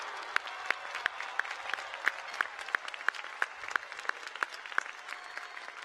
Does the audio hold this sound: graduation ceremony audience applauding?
yes